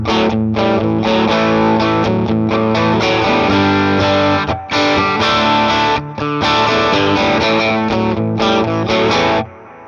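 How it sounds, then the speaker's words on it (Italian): A Pulze Mini guitar amp plays a dense, loud electric guitar riff with delay and the reverb switched off, repeats trailing the chords before a brief pause and a final cutoff. "Leviamo il riverbero, inseriamo il delay"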